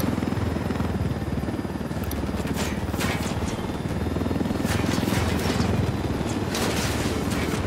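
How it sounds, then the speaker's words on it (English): Continuous thumping helicopter rotor drone with scattered bursts of gunfire in a Ghost Recon video game battle, loud and without clear talk. "I missed that helicopter."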